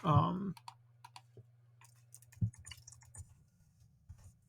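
Keys clicking on a computer keyboard in an irregular run of light taps, near and fairly quiet, following a short burst of speech at the start over a steady low hum.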